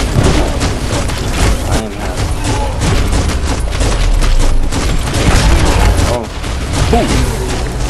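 Automatic guns fire from a mech in Biomutant, a dense, continuous rattle of rapid shots and booming impacts that runs almost the whole time, loud and busy, with someone briefly talking over it.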